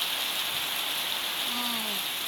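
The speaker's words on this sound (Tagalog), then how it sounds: "Kasi malakas ang ulan, no?" Heavy rain pours down in a dense, constant hiss that never lets up, filling the whole stretch evenly.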